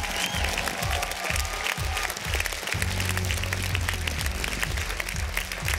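Loud, dense applause from a large studio audience at a televised singing competition gala show, continuous clapping with crowd noise throughout, plus a steady rhythmic low beat underneath.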